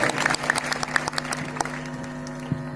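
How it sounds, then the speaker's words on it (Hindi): Applause for a poem recited by a student at a women's empowerment event in India, a thin spread of clapping with distinct sharp individual claps over a steady hum in the hall. "बहुत अच्छी कविता है, एक बार जोरदार तालियां हो जाए।"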